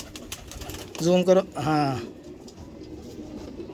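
Pigeons kept by a fancier coo close by in two deep, throaty bursts over low background noise, while someone speaks briefly nearby.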